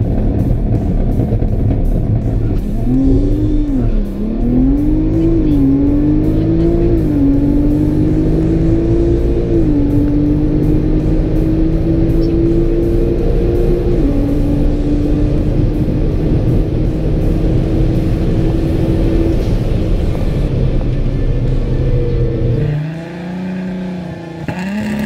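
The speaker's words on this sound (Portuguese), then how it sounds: "som da turbina, meu Deus, que coisa linda de ouvir" Twin-turbo VW Golf R32 Mk5 engine built to 650 hp, revving up through rising pitch sweeps and pulling hard under acceleration, loud and close, with a brief shift-like dip near the end before climbing again.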